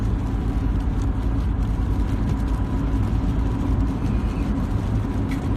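Steady, loud engine and road rumble from inside a car on a drive home from Ottawa, a continuous low drone with no speech.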